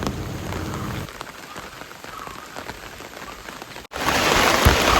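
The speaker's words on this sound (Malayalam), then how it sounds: "രാവിലെ നല്ല മഴ" Heavy morning rain pours steadily on surfaces outside a home near a temple on the day of a Pongala offering, a loud dense hiss that briefly drops, cuts out for a moment, then returns even louder, with no voices.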